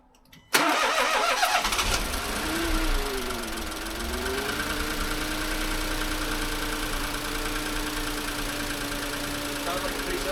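A repaired car engine, rebuilt cheaply after a costly failure, cranks briefly and then catches, settling into a loud, steady idle that carries on to the end with a slight wavering in pitch.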